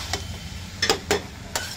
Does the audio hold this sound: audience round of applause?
no